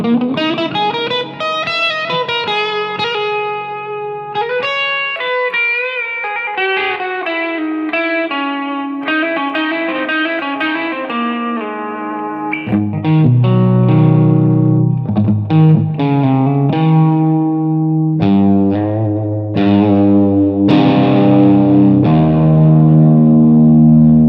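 Distorted electric guitar playing a lead line through a tiny Yamaha THR5 practice amp, with singing sustained notes, bends and runs, chorus-like effect and some reverb, steady and fairly loud with no talking.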